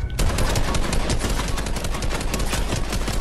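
Rapid automatic gunfire in Fortnite: an unbroken, loud burst of close shots starting almost at once and filling the whole stretch, with no speech over it.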